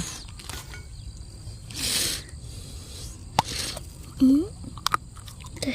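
Aromatic coconut flesh being bitten and chewed up close, with soft wet crunches and scattered clicks, plus brief voice sounds between mouthfuls.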